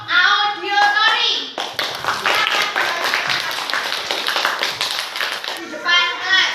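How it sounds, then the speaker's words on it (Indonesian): Schoolchildren in a classroom clap for a group of classmates, a burst of quick, scattered claps from many small hands, with children's voices talking before and after. "Beri tepuk tangan untuk kelompok audiotori."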